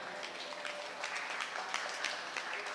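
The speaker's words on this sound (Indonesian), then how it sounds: "Tepuk tangan untuk timnas Indonesia." An audience at an Indonesian diaspora policy forum claps for the Indonesian national football team. The applause is brief and moderately loud, with scattered sharper claps and no speech over it.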